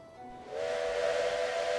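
A steam train's whistle in Railway Empire starts with a hiss and then settles into a loud, steady tonal blast that holds to the end.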